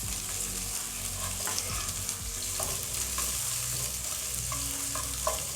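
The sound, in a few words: stirring beans and pumpkin in a pan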